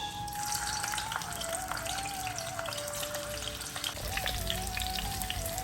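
Stuffed Andhra-style bitter gourd frying in oil, a steady rain-like crackle of bubbling oil filling the background, with a faint thin whine running over it and no speech.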